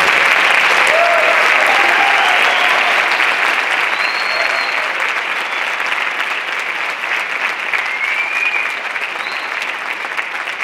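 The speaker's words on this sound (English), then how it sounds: "If you'll give them one more huge round of applause." Sustained audience applause for a student band at a TMEA Symphonic Winds Region 30 concert, a dense, steady wash of many hands clapping with a few faint cheers and whistles over it, loud and continuous.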